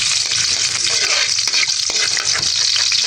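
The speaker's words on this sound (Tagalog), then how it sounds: "Dito po ako yung magigisa na po ng bawang." Garlic sautéing in a frying pan gives a loud, steady sizzle broken by scraping stir strokes, with no voices.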